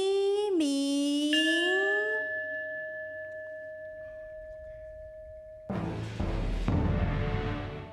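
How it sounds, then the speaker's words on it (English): A large bell rings at a Buddha Day ceremony, its struck tone sustaining and slowly fading over several seconds, then a loud burst of drums and percussion crashes in near the end. "The bells and drums are for enlightening people."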